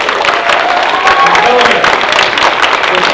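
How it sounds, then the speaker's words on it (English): Audience applause for a breakfast sponsor at a holiday fundraiser for Youth Without Shelter: dense, even clapping from a crowd, loud throughout, with voices faintly mixed in. "Let's give them a round of applause."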